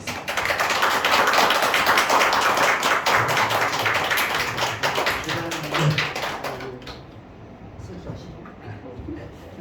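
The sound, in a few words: congregation applauding to welcome a pastor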